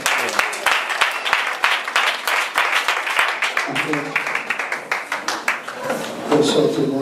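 Church congregation applauding during a service, with sustained clapping from many hands and voices calling out amid the applause, and some singing or speech rising toward the end.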